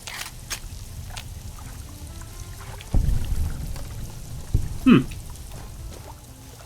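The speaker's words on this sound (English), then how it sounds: "We got water leaking in a room I can't get into." Water drips and trickles from a leak inside a sealed room in the Fallout video game, faint and patchy over a low ambient hum, with a couple of louder splashy bursts.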